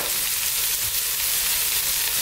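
White cabbage and other vegetables hiss and sizzle steadily in a hot pan for noodles, a close, even frying noise with no voices.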